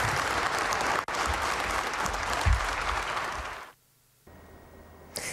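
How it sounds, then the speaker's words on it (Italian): Staff at the office windows of Palazzo Chigi in Rome applauding a departing leader: sustained, dense outdoor clapping for several seconds that cuts off abruptly into quiet. "con Giuseppe Conte, uscito da Palazzo Chigi tra gli applausi, dalle finestre dei dipendenti"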